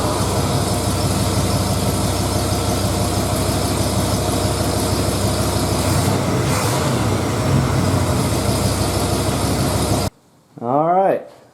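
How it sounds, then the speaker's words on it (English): A 1978 Ford F-150 engine with newly fitted belts runs steadily at close range, its broadband mechanical roar constant for about ten seconds, then cuts off abruptly, leaving a brief pause before a voice speaks. "We're going to start the engine, make sure it seats in and it doesn't squeal when we rev it."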